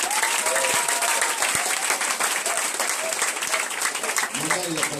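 A church congregation applauds and cheers loudly and steadily throughout, a dense wash of clapping with voices shouting over it.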